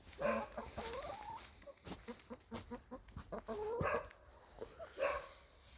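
Several wet, moulting chickens cluck and squawk nearby in cold, overcast weather, a quick run of short clucks bracketed by longer drawn-out calls.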